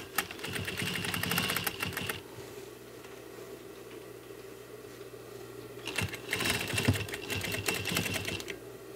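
A sewing machine runs in two bursts of steady rapid stitching while a sofa seat cushion cover is sewn, with a quiet pause between them where the motor stops.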